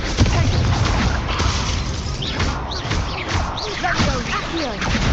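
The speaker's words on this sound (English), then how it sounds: "Confringo!" The Confringo blasting curse from the Hogwarts video game goes off in loud, dense crackling and crashing blasts. Game sounds and voices mix in throughout.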